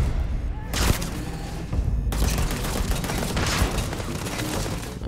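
Gunfire from a gun in the video game Starfield, heard as loud, dense bursts of rapid shots and booming impacts that run almost continuously through the clip.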